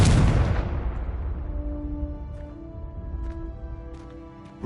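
Confringo fire spell exploding in Hogwarts Legacy: a loud, close burst at the start that decays into a long rumbling tail, with faint tonal game sounds lingering beneath.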